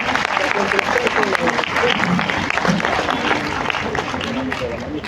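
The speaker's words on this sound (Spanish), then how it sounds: "Octavio Santa Cruz y Sofía Carrillo, para quienes también pido un aplauso, por favor." A book fair audience at the Nicomedes Santa Cruz centenary applauds Octavio Santa Cruz and Sofía Carrillo, steady dense clapping throughout with some voices mixed in.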